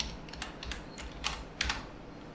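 A command typed on a computer keyboard in a Linux terminal, a short run of close, light key clicks in quick irregular rhythm, with no talking.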